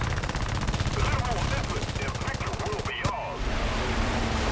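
Defensive turret machine guns on a Short Stirling Mk I bomber fire in War Thunder, loud rapid continuous bursts with a brief pause near the end before fire resumes; a voice may speak faintly beneath.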